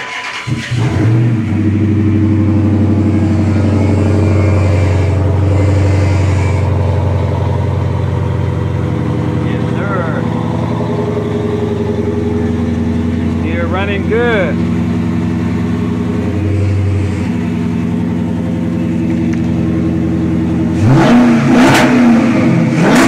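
A car with a cracked rim from hitting a wall runs close by, its engine idling steadily and then revving up in a couple of rising bursts, with loud continuous engine drone throughout and no speech.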